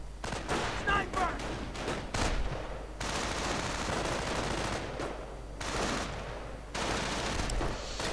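Gunfire from a WWII strategy video game battle, with dense bursts of rifle and machine-gun fire in rapid clusters separated by short lulls, and faint voices in places.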